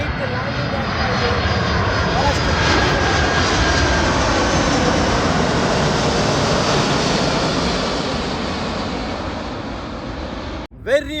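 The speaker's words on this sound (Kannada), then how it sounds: "ಫ್ಲೈಟ್ ಲ್ಯಾಂಡಿಂಗ್ ಆಗ್ತಾ ಇದೆ." An airliner lands at Bahrain International Airport, its engines a loud, steady roar that fills the whole stretch before cutting off abruptly near the end.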